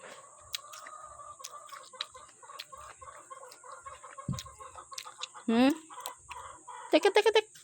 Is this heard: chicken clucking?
yes